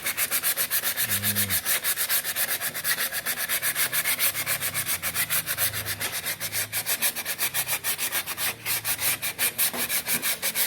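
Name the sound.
hand sanding body filler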